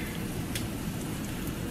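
Steady hissing bubble and crackle of water at a rolling boil, close by and constant, with no voices.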